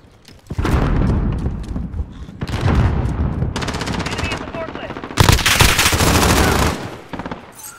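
Rapid automatic gunfire bursts in Call of Duty: Modern Warfare on the Shoot House map, loud close volleys separated by brief pauses, with a heavier burst near the end and faint game sounds between.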